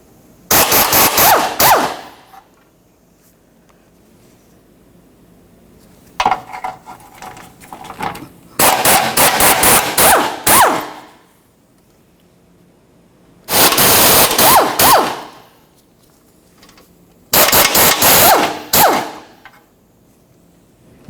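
Four bursts of rapid ratcheting from a power impact tool remove 14mm subframe mounting nuts on a 2003-2007 Honda Accord, loud and close with quiet gaps between.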